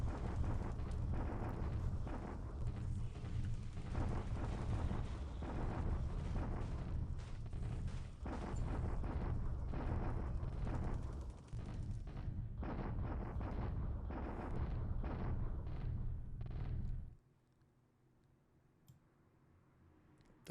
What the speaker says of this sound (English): I'm bombarding at Tian Shui because I want to see kind of how that's going to look as we get more artillery into the hex.